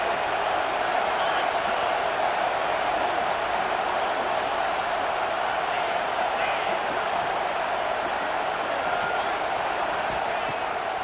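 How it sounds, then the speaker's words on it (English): A continuous, dense roar from a stadium crowd in EA Sports College Football 26 holds steady throughout, with a commentator talking over it. "Man, this crowd really affecting the football game."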